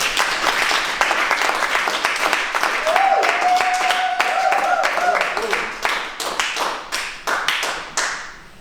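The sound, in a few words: audience applauding for the new national president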